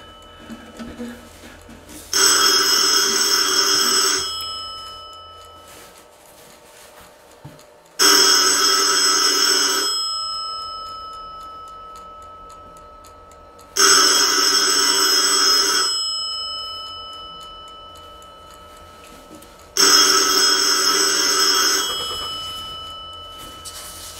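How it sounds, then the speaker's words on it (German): A telephone rings in four long electronic bursts, evenly spaced with short silences between them, clear and close. "Das Telefon."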